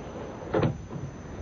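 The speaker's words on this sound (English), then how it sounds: "Shut the door." Door being shut in an office, a single short muffled thud near the middle, faint and close against quiet room tone.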